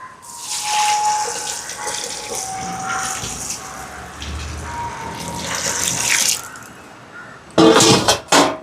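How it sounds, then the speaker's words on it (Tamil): Water pours into a cooking pot holding washed lentils set on the stove. The splashing gush is close and runs steadily for several seconds, then a few sharp clanks of metal follow near the end. "இதுக்கு வந்து தண்ணி சேர்ப்போம்."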